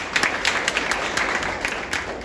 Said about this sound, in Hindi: मिलिंद तांबे सर के लिए थोड़ा ताली होगी